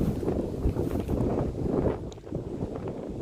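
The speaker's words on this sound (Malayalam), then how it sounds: "നല്ല തണുപ്പാണ്, കാറ്റ്," Strong cold wind blowing across the hills, a loud gusty roar buffeting the microphone throughout, with no talk.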